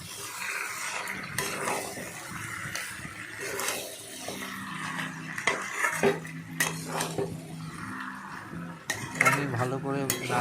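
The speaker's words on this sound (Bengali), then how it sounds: "দিয়ে শুকিয়ে দিয়ে ভালো করে নাড়াচাড়া করতে হবে" Gobindobhog rice dry-roasting in a pan, stirred so the grains rustle and a utensil scrapes and clinks against the metal throughout, close and fairly quiet, with faint background noise.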